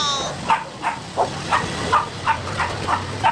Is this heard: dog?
yes